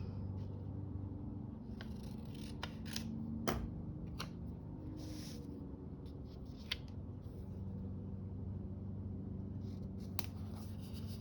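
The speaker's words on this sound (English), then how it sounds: "Let's cut it that way." Scissors snip through paper for a junk journal and washi collage sticker book, several crisp separate cuts close by over a steady low room hum, with no one talking.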